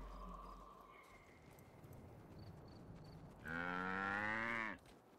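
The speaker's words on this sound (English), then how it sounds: "What's he doing with all these cows?" Cows moo in the video game Guild Wars Nightfall, with one long, loud low moo rising near the end over soft game ambience.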